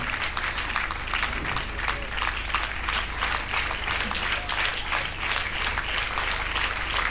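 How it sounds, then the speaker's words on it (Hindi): Steady crowd applause at a church event, dense and continuous throughout, with faint voices mixed in. "जोरदार तालियों से स्वागत कीजिए।"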